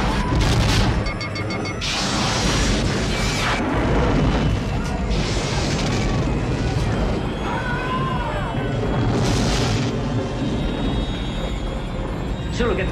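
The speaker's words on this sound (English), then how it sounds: "Lock phasers on target." Phaser fire and explosions in a Star Trek starship battle, a dense, loud barrage of blasts, crashes and whining energy bursts with rumbling booms throughout, voices briefly audible in the mix.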